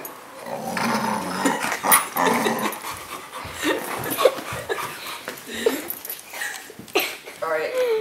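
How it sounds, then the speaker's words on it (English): A dog growls, whimpers and yips in short, uneven bursts close by, mixed in with people talking over it. "That's dog. It's a Scooter Kid's dog."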